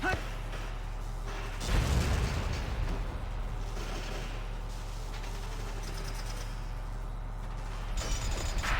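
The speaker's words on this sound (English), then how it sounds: "It's time for an explosion." A booming explosion from the tactical wartime game Valkyria Chronicles bursts out near the start, then gives way to a steady rumbling battlefield bed with mechanical noise, and a second, smaller burst arrives near the end.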